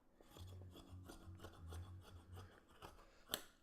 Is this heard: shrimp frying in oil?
no